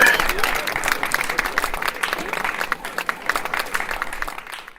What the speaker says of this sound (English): if everybody could stand up and clap for Mickey